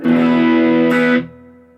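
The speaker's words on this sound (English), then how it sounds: "This is dry, and this has a little bit of spring." A distorted electric guitar chord rings out loudly through spring reverb, then is cut off and leaves a short metallic reverb tail fading away.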